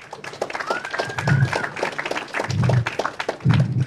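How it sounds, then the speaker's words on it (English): An audience at a livestreamed blockchain real estate event gives a round of applause, scattered claps rising and falling in uneven bursts, with voices and background sounds mixed in. "So let's give them a round of applause."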